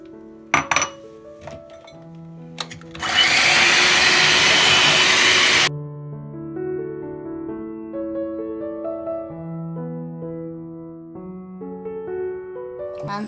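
A cake mixture of eggs and sugar beaten in a bowl with an electric mixer, a loud steady whir lasting about three seconds after clinks of utensils, then quiet background music.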